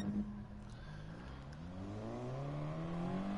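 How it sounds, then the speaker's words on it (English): A racing car in a sim-racing game on medium tyres pulls out of the pit lane, its engine revving and climbing steadily in pitch as it accelerates, loud and continuous with no talking. "the engine sound on it though"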